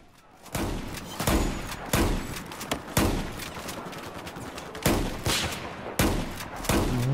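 A Remington 870 MCS shotgun fires 12 gauge buckshot in a series of about seven loud, close blasts roughly a second apart, each with a sharp crack and short decay, interleaved with pump-action clatter.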